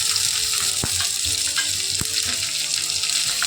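Onion frying in a clay pot gives a steady, dense sizzle, with a few faint clicks and taps from stirring.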